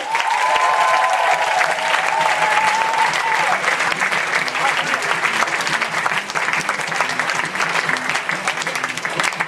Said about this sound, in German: begrüße ihn jetzt mit einem tosenden Applaus